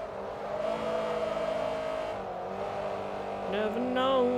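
Mustang and Camaro race cars in Forza Motorsport 3, engines droning at steady high revs with a rising whine and a brief tire squeal near the end, heard continuously and close up.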